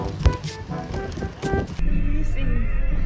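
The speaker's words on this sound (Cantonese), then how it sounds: "濕晒個頭，避下雨先。" Heavy rain pours down at the Twelve Apostles near Melbourne. Voices and clatter come first, then a dense, steady roar of rainfall takes over and fills the rest of the clip.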